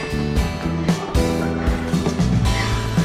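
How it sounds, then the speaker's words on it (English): Parrots inside a pet store give loud, harsh squawks and gobbling calls in repeated bursts over a noisy indoor background, with no one speaking. "I love parrots."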